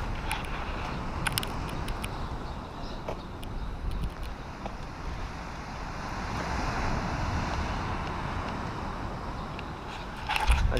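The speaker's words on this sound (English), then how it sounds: "As you can see, there's some big waves." Big waves at high tide in Runswick Bay on the Yorkshire coast give a continuous surf roar mixed with wind buffeting the microphone, swelling and easing at moderate loudness without voices.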